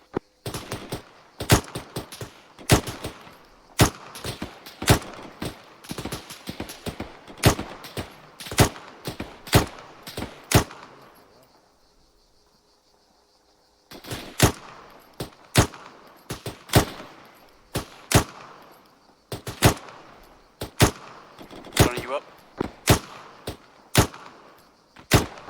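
Gunfire in the military shooter Arma 3, sharp shots cracking out one after another in irregular bursts, loud and close, stopping for a few seconds of near silence before resuming.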